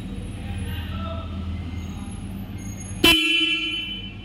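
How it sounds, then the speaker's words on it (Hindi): A single horn on a Royal Enfield Hunter motorcycle blasts once, sharp and loud, after a few seconds of low idling engine rumble, then fades out. "बाइक का हॉर्न प्रेस करते हैं कि कितना लाउड जाता है"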